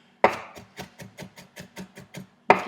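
Knife chops ginger on a cutting board in quick, evenly spaced strokes, about a dozen crisp close taps with a harder thud at the start and end, with no voices.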